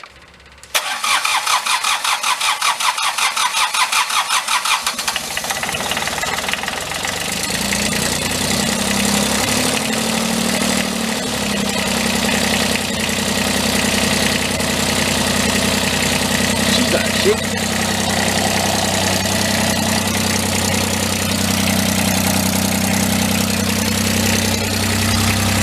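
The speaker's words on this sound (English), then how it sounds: "Let's fire it up and see what it does and let it run a little bit." A replacement engine in a junk skid steer cranks briefly, catches and settles into a steady, loud idle that runs on, with a voice talking faintly beneath the engine noise.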